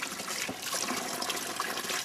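Steady rushing and splashing of water from a holy spring believed to have healing powers, an unbroken close wash of sound with no voices.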